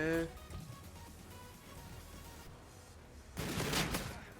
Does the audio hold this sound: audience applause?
no